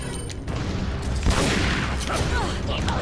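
Gunfire at an enemy's legs in Resident Evil 4, dense rapid shots and impacts filling the game soundscape, with a person talking over the action.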